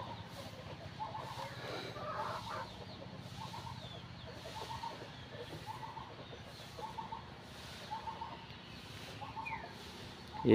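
Desi chickens on a small farm cluck and call softly and intermittently in the background, with faint ambient noise throughout.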